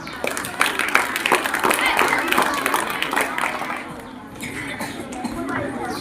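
A school audience at a National Science Day programme applauding, a dense burst of clapping with some chatter that swells, then thins out toward the end.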